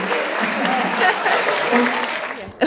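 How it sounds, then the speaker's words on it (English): An audience applauds for a woman named Carolyn with a steady round of clapping while a voice keeps talking over it. "Clap for Carolyn."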